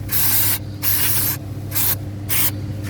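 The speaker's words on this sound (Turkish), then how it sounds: "Balta sprey falan sıkayım" Four sustained bursts of aerosol cleaning spray during a Fiat brake hydraulic hose replacement, each hissing for about half a second with short pauses between, close and loud.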